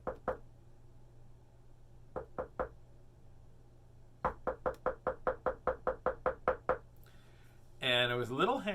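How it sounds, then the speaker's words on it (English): Small hands knock on a car door window in two short bursts, then a longer run of about a dozen quick, evenly spaced knocks, close and fairly loud over a low steady hum. "it was little hands on my window, on the door window"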